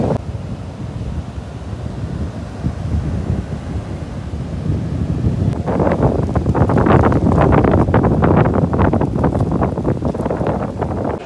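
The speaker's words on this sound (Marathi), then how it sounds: "या लाटांचा स्पीड आहे." Sea waves roll in at Bhatye beach near Ratnagiri on the Konkan coast, a steady broad wash that swells louder about halfway through, with heavy wind buffeting the microphone.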